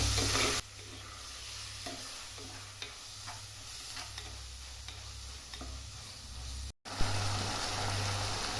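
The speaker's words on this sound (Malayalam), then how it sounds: "ചെമ്മീനും കൂടി ഇട്ട് ചെറുതായിട്ടൊന്ന് വഴറ്റാം" Prawns sautéing in a pan with onions for a Kerala-style prawn and mango curry, a continuous sizzle with soft, evenly spaced spatula scrapes, nearby, under a low steady hum and a brief cut near the end.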